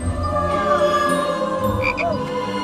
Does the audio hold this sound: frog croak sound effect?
yes